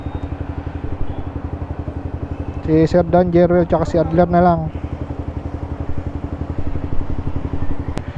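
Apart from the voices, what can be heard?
group of nine motorcycles with engines running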